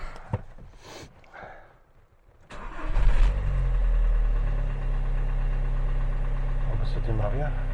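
A rebuilt Audi A4 2.0 TDI 140 hp diesel cranks briefly, catches and settles into a steady, loud, clattery idle after a quiet stretch with faint clicks and a voice speaking.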